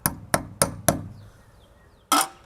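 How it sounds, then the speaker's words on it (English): Four light, evenly spaced taps of a small hammer tapping a screw into place, then a pause and one more tap, crisp and close. "just give a little tap with a hammer"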